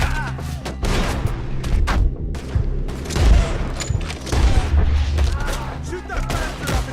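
Rapid gunfire in Red Dead Redemption 2, with many loud shots and booming blasts firing in bursts throughout a firefight, while a voice talks over the shooting.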